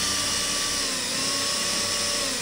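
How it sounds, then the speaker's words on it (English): A power drill bores a hole during a mud flap install on a Trail Rider 570, giving a steady, continuous whine at close range with no pauses and no talking. "Okay, then we'll go ahead and get my drill here."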